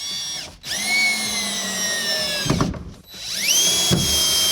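Power drill driving a screw through a Delta EverEdge shower wall flange into framing, whining motor bursts that rise and fall in pitch with short stops between, close up with no talking.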